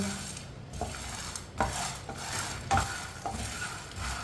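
Chickpeas stirred and roasted in a pan on a medium flame, with a steady soft sizzle broken by several scraping stirs and light clinks of a utensil against the pan.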